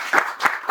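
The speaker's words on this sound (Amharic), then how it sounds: "እንደኔ የምታምኑ አጨብጭቡና" An audience at an event honouring a celebrated Ethiopian musician claps in a short, close burst of applause, with three distinct swells of hand claps.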